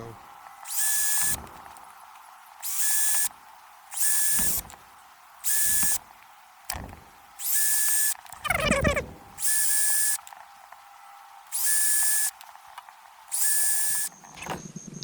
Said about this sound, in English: I'm going to do it with starting it drilling through holes